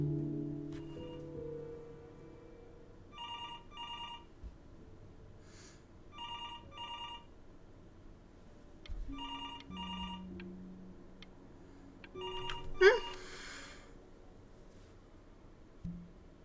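A telephone rings in the video game Before Your Eyes, repeated paired electronic trills in separate bursts over a quiet, low background with a brief sharp sound near the end.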